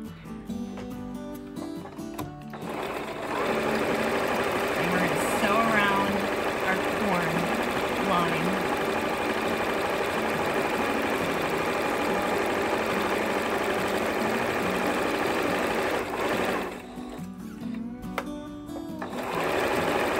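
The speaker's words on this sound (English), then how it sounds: "All right, it is time to sew these up." A sewing machine stitches a fabric corn piece for Thanksgiving fall decor, a steady close mechanical whir running for long stretches with brief stops, while someone talks over it.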